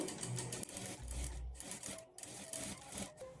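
A sewing machine stitches piping cloth onto a boat-neck blouse, its motor whirring in uneven runs with brief pauses and a few short bursts, close and fairly quiet, with no voices.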